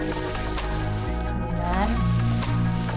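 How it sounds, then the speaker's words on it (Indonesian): Chocolate bars melting with butter over heat give off a steady sizzle with faint stirring, and a low hum runs underneath throughout. "Coklat batang ini dilelehkan bersama mentega sebanyak 10 sendok makan ya."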